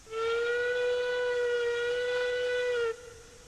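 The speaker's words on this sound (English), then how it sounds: "First thing that we are going to do is ring the whistle" A steam locomotive whistle in the train-driving game Railroads Online sounds one long, steady, clear tonal blast lasting nearly three seconds, then cuts off abruptly into quiet.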